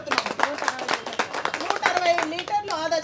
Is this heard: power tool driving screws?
no